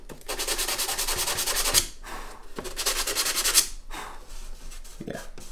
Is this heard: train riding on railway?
no